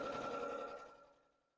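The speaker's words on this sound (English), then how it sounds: "the sound of my sewing machine" A sewing machine hums steadily up close, then slows and fades away to silence.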